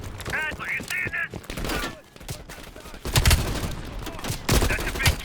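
Heavy machine gun fire in Call of Duty Cold War, fired from a ridge: loud bursts of rapid shots with thudding impacts, broken up by voices speaking between the volleys.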